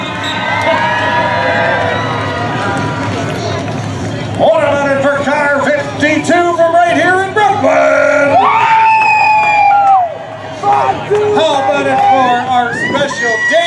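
Crowd at an outdoor car show in Brooklin, Ontario cheering, whooping and shouting loudly in sustained bursts, with high excited voices rising over a dense babble.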